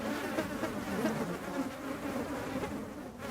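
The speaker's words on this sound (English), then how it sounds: "I hear the mosquitoes" Mosquitoes whine with a continuous, wavering insect buzz that holds steady at a moderate level, with no talking over it.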